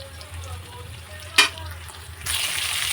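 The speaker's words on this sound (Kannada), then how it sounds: "ಹಸಿಮೆಣಸಿನಕಾಯಿ ಮತ್ತು ಕರಿಬೇವು ಹಾಕಿದ್ದೀನಿ. ಇದನ್ನು ಒಂದು ಸ್ವಲ್ಪ ಫ್ರೈ ಮಾಡ್ಕೋಬೇಕು." Green chillies and curry leaves fry in a pan with a soft, low sizzle, interrupted by one sharp clink of a utensil, then a louder hiss of frying swelling up toward the end.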